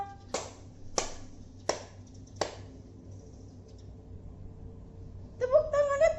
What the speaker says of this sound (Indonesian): Tepuk tangannya 3 kali, bukan 4.